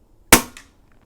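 A single sharp crack from a Pinty bullpup air rifle, close and loud, with a faint second report a moment later and then quiet.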